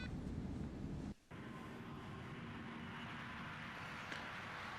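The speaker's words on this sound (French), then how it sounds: "Premier plan d'une arrivée d'un avion, d'une belle arrivée d'un avion." An airplane arriving in the French film Un Indien dans la ville: a steady, loud broadband roar of jet engine noise that drops out briefly for a moment, then resumes unbroken to the end.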